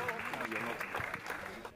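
An audience applauds as a comedian is welcomed onto a stage at a live comedy show, a steady wash of clapping under a host's voice that fades toward the end.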